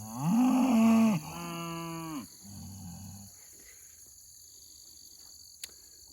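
Cattle in a paddock moo several times close by, long drawn-out calls with varying pitch, then fade out, leaving faint insect chirping and a quiet pasture background.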